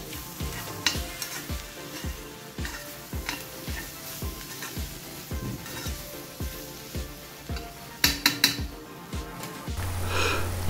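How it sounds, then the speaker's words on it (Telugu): Ivy gourd pieces frying in a pan and being stirred, with a constant sizzle under regular scraping strokes of a spatula, a few sharper clanks near the end, close and alone. "దొండకాయ ముక్కలు చాలా చక్కగా ఫ్రై అయ్యాయి."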